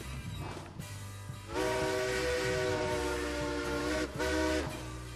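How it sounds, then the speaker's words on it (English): A steam locomotive whistle in the Railroads Online video game, a steady harmonic blast with faint chuffing beneath, sounding in two long loud stretches broken by a brief dip. "you can hear chuffing in that whistle sound effect there, which is hilarious"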